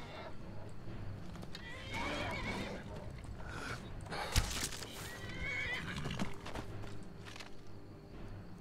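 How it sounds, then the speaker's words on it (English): A horse in the Skyrim video game whinnies and snorts amid clopping hooves, with a sharp thud midway and background game ambience; someone talks briefly over it. "Someone's horse, probably that hunter."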